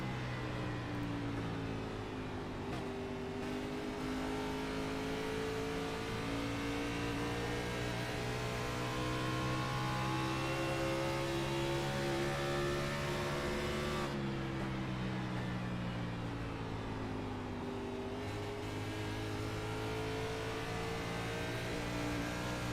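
NASCAR Toyota Camry race cars roar around the track, a loud continuous engine drone with shifting pitch as cars accelerate and pass, steady throughout with no talk.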